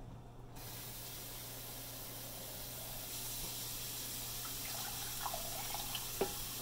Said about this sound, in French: Donc, on remplit le chaudron.